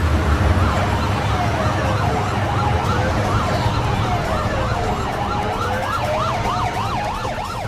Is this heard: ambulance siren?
yes